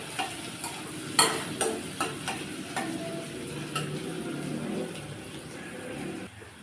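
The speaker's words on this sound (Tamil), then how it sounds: "இப்போ இதை நல்லா வதக்கி விட்டுக்கலாம் கொஞ்சம் வெங்காயம் நல்லா வதங்கட்டும்" Onions sautéing in a pan for masala pasta, with a low steady sizzle under several sharp spatula scrapes and taps as they are stirred, close and moderately loud.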